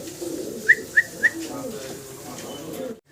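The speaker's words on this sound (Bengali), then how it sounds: "জি চাইনিজ মং কবুতর দেখাচ্ছি, খুব অ্যাক্টিভ একটা জোড়া দেখতে পাচ্ছেন।" Soft coos from a pair of silver Chinese Mong fancy pigeons repeat three times in quick, even succession over a low murmur of background voices and ambient noise.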